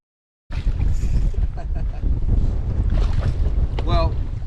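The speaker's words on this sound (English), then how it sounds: "as you can tell, the wind is absolutely brutal now" Strong wind buffets a lake shore ahead of a storm, a loud, continuous roar of gusts and microphone wind noise with water lapping beneath and brief voice fragments near the end.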